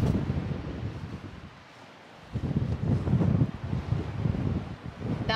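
Strong wind gusts across an open golf course at Flinders Golf Club, a broadband roar that dips briefly then surges back loud and steady with buffeting against the microphone.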